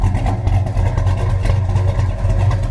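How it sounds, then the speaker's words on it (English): Rumbling 1970 Plymouth Road Runner tribute idling through its dual exhaust, a deep, loud, steady burble close to the tailpipes with no talk over it. "You can hear the power this thing has just coming out of the tailpipes, and it's got a great sounding dual exhaust."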